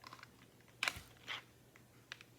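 Sparse keystrokes clack on a cheap Five Below computer keyboard, with a few sharp isolated taps and softer clicks spread unevenly in a quiet room.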